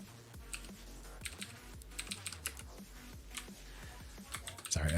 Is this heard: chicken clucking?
no